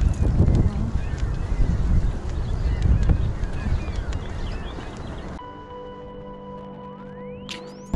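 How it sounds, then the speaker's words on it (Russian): Strong gusty wind in a park in Niagara-on-the-Lake, Ontario, roars and buffets the microphone for several seconds, then drops away abruptly. "О, ветер какой!"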